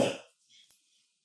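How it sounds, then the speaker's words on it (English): A single short cough, close and loud, followed by a faint breath and near silence. "I have to cough."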